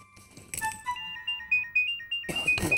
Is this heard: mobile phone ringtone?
yes